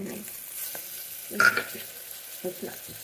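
Ginger garlic paste fries in a pan, giving a soft, steady sizzle with a few brief scraping stirs and clinks, close by.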